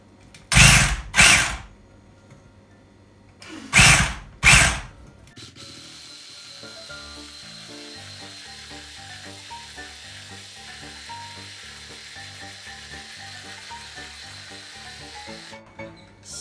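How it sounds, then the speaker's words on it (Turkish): Dalgona coffee being whisked: two pairs of loud, sharp bursts open, then a steady rhythmic whirring and scraping churns on close by with no talking. "Şimdi çırpıyoruz. Bunun püf noktası bu arada çırpması."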